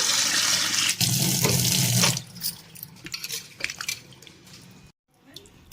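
Raw mangoes being washed under a running kitchen tap, with a strong water rush that stops after about two seconds and gives way to splashes, drips and handling sounds.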